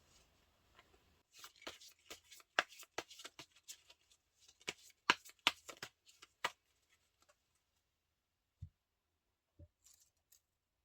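Tarot cards being shuffled and handled before a draw: a quick run of crisp snaps, flicks and riffles over several seconds, then a few isolated taps and soft knocks spaced apart near the end, close and fairly quiet.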